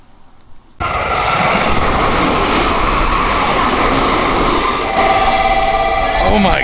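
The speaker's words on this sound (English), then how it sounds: "So that was a Japanese bullet train, like a Shinkansen" A Shinkansen bullet train roars past close by after a sudden onset, a loud sustained rushing rumble with a whining tone, fading slightly toward the end.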